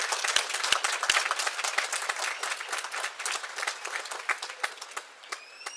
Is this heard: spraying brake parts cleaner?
no